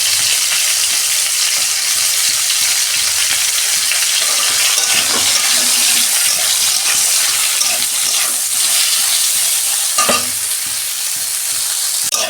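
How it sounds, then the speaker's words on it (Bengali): Cauliflower and beans fry together in a pan with a loud, steady sizzle, broken now and then by stirring and scraping. "কপি আর শিম আমি একসঙ্গে ভেজে নেব।"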